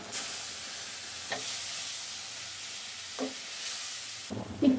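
A spice paste of cumin, coriander, ginger and cashew pastes sizzles steadily in a hot pan, with occasional scraping stirs and a louder clatter at the end, close and without talking.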